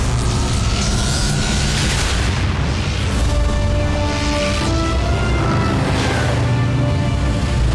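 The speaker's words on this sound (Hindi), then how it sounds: "वो धमाका किसने किया?" Cartoon explosion from the animated series Transformers: Prime, a loud sustained rumbling blast with crackling debris and booming bursts filling the whole stretch, no talk over it.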